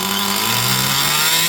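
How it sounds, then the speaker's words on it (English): A Compagnucci Super Beetle engine, a finicky little air-cooled motor that is hard to tune, runs steadily and loudly up close with a constant buzzing drone and no talk. "It's a real difficult little engine to tune."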